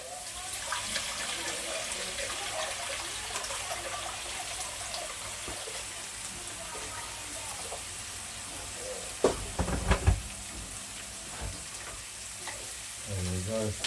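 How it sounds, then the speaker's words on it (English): Water goes into a hot pot of lamb shank stew, setting off a steady sizzle and bubbling hiss, with a brief louder splash and clatter near the end. "to toss a bit of water in there."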